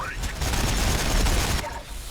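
Ork warbikers fire their guns in Warhammer 40000 Battlesector, a dense, continuous rattling volley of gunfire lasting about two seconds, loud and close, with no talking.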